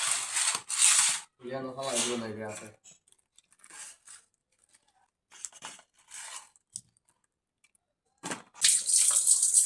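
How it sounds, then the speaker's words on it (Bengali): Cut fish rinsed under a running kitchen tap, water gushing in loud bursts that stop and start, with splashing and handling noises in the pauses between. "মাছগুলো আমার কাটাকাটি হয়ে গেছে, এখন শুধু ধুইব।"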